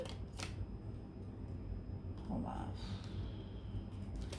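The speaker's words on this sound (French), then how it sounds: "je veux tirer d'abord toutes les cartes" Tarot cards are drawn and handled up close, making soft papery shuffles and a few sharper flicks over a low, steady room hum.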